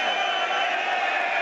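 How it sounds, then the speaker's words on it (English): Leeds fans in a football stadium giving applause to a substituted player, a steady roar of crowd noise and clapping filling the short moment. "gets applause from the Leeds fans"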